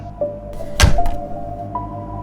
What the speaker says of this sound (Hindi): और दरवाज़ा बंद कर दिया